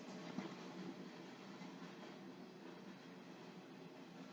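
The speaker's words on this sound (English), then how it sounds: "Sorry about the train." A train rumbles past steadily and continuously, a broad distant roar without distinct clacks, no talking heard.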